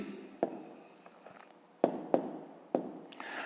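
Pen writing an answer on paper during a fifth-grade maths exercise, soft close scratching strokes with a few sharper taps, quiet and without talk.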